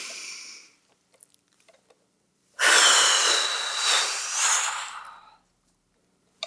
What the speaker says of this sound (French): Tu veux prendre une grande respiration avec moi? Ça va m'aider à me calmer.